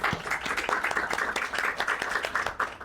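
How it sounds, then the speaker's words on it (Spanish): A lecture audience at an urban planning conference gives a warm round of applause for the speaker, many hands clapping steadily at moderate distance, with no talk over it from start to finish. "Por favor, démosle un caluroso aplauso a nuestro expositor."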